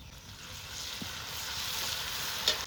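Dried chilli and pepper paste fries in a pan with a steady, close sizzle that builds slightly. A faint clink comes near the end.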